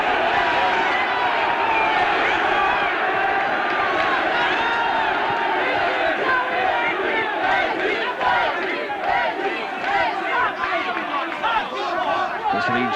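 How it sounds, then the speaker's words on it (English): A boxing crowd at a Leeds venue roars and chants for a local hero, a dense, continuous wall of cheering and shouting throughout with voices rising and falling. "This Leeds crowd at Ellen Road trying to get their hero going."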